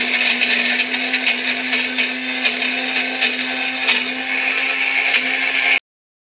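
A kitchen mixer grinds roasted chickpeas into a paste, roaring loud and steady with a constant motor whine, then cuts off abruptly just before the end.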